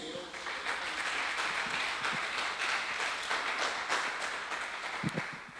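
A church congregation gives a round of applause to the Lord, steady moderate clapping from many hands, fairly distant, with a few low thumps and voices underneath.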